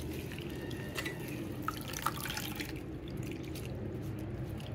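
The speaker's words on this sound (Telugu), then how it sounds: "ఆకులు వలిసేసుకున్న కరివేపాకుని ఇలా వాటర్లో కడిగేసుకోవాలండి" Curry leaves being rinsed in water, with soft steady splashing and a few small drips and clinks across the whole stretch, close and fairly quiet, with no talk.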